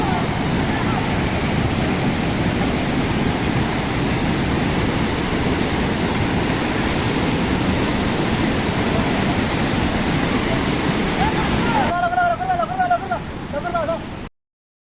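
Savatkada waterfall near Kolhapur, a dense, steady roar of falling water that fills the whole stretch at high level, with faint voices near the end before the sound cuts off abruptly.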